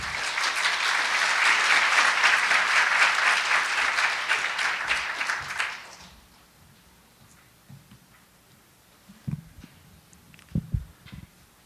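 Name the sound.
audience applause welcoming the speaker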